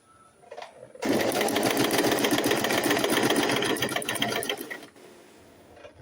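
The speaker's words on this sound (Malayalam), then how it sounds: "ഫ്രണ്ട് നെക്ക് ക്യാൻവാസ് വെച്ചിട്ട് അടിച്ചെടുക്കുകയാണ്." Sewing machine stitching a canvas facing onto the front neckline of a simple top, a loud, steady rapid run of close stitching lasting about four seconds, then stopping.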